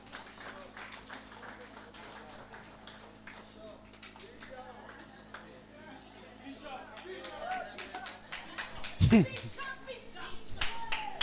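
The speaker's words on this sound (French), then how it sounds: "Acclamez pour lui pendant qu'il vient, s'il vous plaît" An audience at a foundation school ceremony claps as a name is called. Scattered hand claps grow into a short burst of louder clapping near the end, mixed with a voice speaking over a public address.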